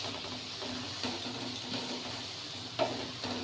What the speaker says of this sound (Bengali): এবার হালকা হাতে নাড়তে হবে। দিয়ে দিব স্বাদ মতো লবণ। এখন আবারও মিশিয়ে নিব।